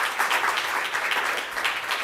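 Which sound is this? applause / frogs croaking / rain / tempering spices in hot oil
applause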